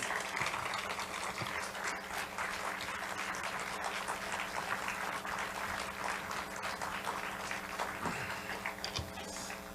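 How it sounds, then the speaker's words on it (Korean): A church congregation applauds to welcome the pastor at a Wednesday evening service, a steady wash of clapping beneath a low, constant hum. "큰 박수로 환영해 주시면 감사하겠습니다"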